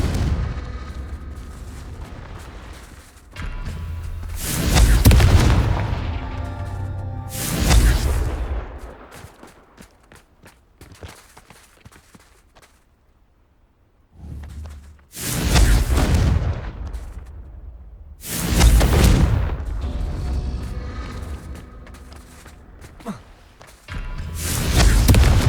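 Fiery spell blasts in the video game Hogwarts Legacy erupt as several loud, booming explosions spaced across the clip, with quieter game ambience between them.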